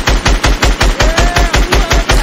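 Gunfire in a 1v1 video game: a loud, rapid, evenly spaced burst of about a dozen shots in close succession, heard alone without talk.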